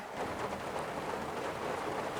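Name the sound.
rain falling outside a church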